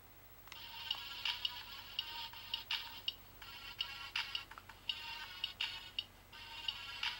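A toddler's toy phone plays a bright, repeating electronic ringtone in short bursts with brief gaps, fairly close and clear with no talking over it.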